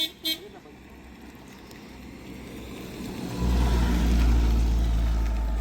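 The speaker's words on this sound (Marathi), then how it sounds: "हो गाडी येते मिलिंद सर" A vehicle on a hill village road near Kasara gives a short horn toot or two at the start, then its engine rumble grows louder and heavier as it draws close, with faint voices in the background.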